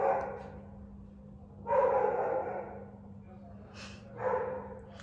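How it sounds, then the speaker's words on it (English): Two or three deep, muffled dog barks, somewhat distant, with a low steady hum underneath. "I'm sorry about the dogs"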